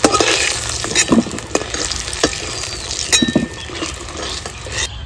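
Potatoes fry in hot oil with a steady broadband sizzle, broken by scattered stirring scrapes and a few metallic clinks from a utensil against the pan, heard up close with no talking.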